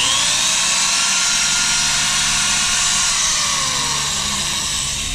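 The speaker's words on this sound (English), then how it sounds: "when you drill fiberglass, you run the drill backwards." Power drill run in reverse boring a hole in a fiberglass boat hull to mount a Lowrance Halo radar: a loud, continuous whirring whine held steady, its pitch sliding slightly lower toward the end.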